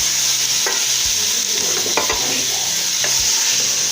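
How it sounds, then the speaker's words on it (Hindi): Minced meat sizzles and fries in a pan of red chilli and garlic, with repeated scraping stirs against the pan over a constant loud hiss. "कीमे को हम अच्छी तरह इसके अंदर भूनेंगे।"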